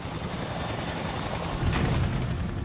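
Dramatized helicopter in flight, a loud steady rotor and engine roar filling the whole clip with a slight swell near the end, no voices.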